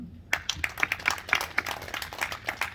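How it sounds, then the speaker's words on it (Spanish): A church congregation claps in praise to the Lord, a small group producing quick, uneven claps close by, starting abruptly after a brief quiet moment and continuing steadily. "Vamos a hacer un aplauso al Señor."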